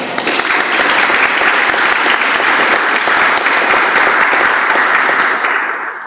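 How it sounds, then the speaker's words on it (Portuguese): An audience at a community territorial workshop in São Pedro breaks into steady, dense applause, loud and close, sustained for about five seconds before tapering off. "Podemos dar uma salva de palmas?"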